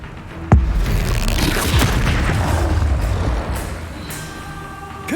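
Spell explosions in the video game Hogwarts Legacy, a sharp boom followed by a dense, loud rumbling wash of blasts and effects that fades slowly, with a faint tonal chime near the end.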